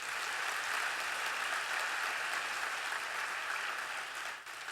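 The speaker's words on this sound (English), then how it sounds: "Could you give them a round of applause?" Faint, distant audience applause at a livestreamed event, an even wash of clapping that holds for several seconds and then tapers off.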